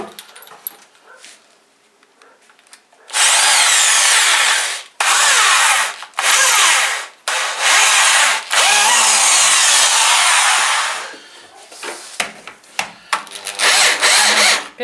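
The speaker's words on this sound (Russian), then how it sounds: "А, шуруповерт?" A cordless screwdriver drives a screw into wood during a budget kitchen fireplace build, whirring loudly in several long bursts separated by short pauses, close by.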